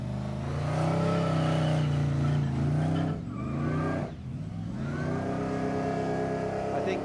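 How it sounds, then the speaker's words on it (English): A blown car engine revs hard and roars continuously during a burnout competition, its pitch rising and dipping, with a brief stutter partway through before it climbs again. "That sounds a little bit more like an angry, angry engine doing a big,"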